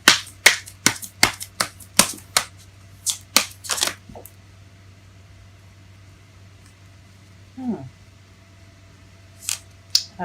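Tarot cards being shuffled by hand: a quick run of crisp, snapping riffles for about four seconds, then near silence broken by a soft rustle and a few final card flicks, close and fairly loud.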